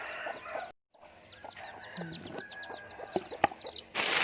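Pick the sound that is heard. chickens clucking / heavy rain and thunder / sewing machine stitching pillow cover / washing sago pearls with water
chickens clucking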